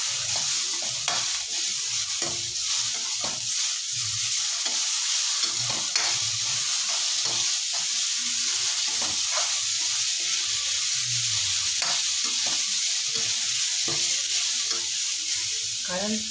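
Tomatoes fry in a pan for Bombay chutney, giving a continuous close sizzle broken by repeated scraping and clinking of a ladle as they are stirred.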